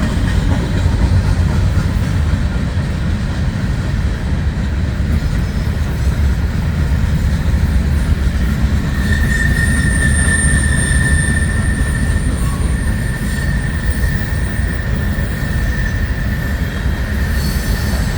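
A freight train rolls past at street level, its loud continuous rumble and clatter filling the whole stretch, with a high metallic wheel squeal rising partway through.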